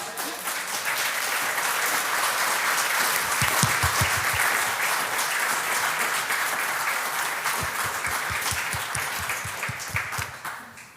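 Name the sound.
audience applause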